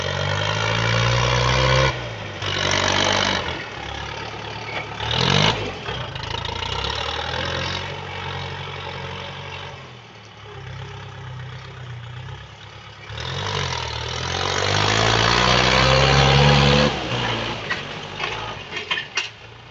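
Motor cultivator tilling heavy garden soil beside a fence, a steady loud engine drone that rises and falls in load and pitch across repeated passes, close by and continuous with no talk.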